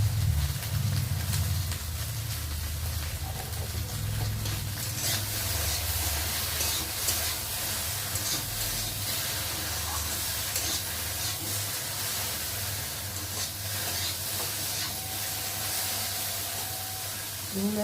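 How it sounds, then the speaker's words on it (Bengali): Taro stolons frying in a covered pan with salt and turmeric give off a steady, moderately loud sizzle and hiss that runs continuously without pause, with no talking. "নুন আর হলুদ দেওয়ার পরে আবার একটু ভালো করে ঢাকা দিয়ে ভেজে নেব।"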